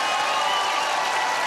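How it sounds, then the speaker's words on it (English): Audience applause in a broadcast studio, a continuous, full burst of many hands clapping at even loudness throughout, with no speech over it. "You can clap for that."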